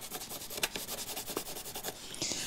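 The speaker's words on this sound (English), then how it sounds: "I'm gonna highlight where all the torn area is" A highlighter drags across a torn-out patch on white oak in rapid, even back-and-forth strokes, soft, close and dry, with a slightly brighter smear at the end.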